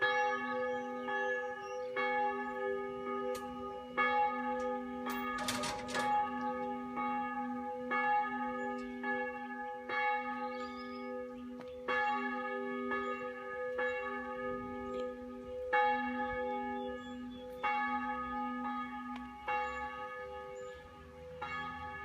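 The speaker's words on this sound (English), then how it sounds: "All the bells ringing up there." Church bells ring out over a village in the south of France, a layered, sustained peal of overlapping strokes continuing steadily throughout, with a brief rustling burst partway through.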